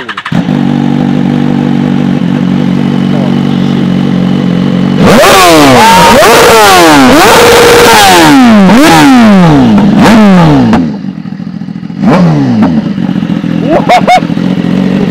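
BMW S1000RR sportbike with full carbon bodywork, close and very loud: a steady idle, then the engine fires into repeated sharp revs rising and falling, settling back before a few final blips.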